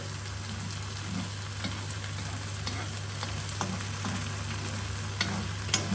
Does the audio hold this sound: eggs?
yes